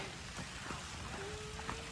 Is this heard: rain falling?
yes